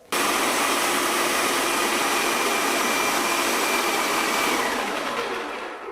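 Low-pressure airless paint sprayer pump starting up on the prime setting and drawing wall paint, a steady loud broadband whir that runs without pause and eases off slightly at the end, with no talking.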